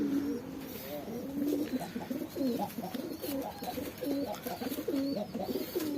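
Several gambir pigeons coo repeatedly in soft, rolling phrases, overlapping one another at close range with a faint background hum.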